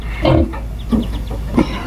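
Farm pigs making noise, a few short grunting squeals in quick succession, fairly close, over a steady low hum.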